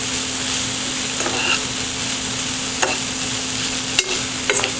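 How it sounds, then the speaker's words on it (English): Seasoned cabbage stirred around a hot pan, a steady sizzle with scraping spoon strokes and a few sharp clinks of utensil on metal, close and continuous. "We're going to go ahead and stir that around"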